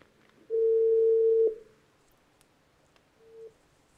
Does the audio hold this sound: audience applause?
no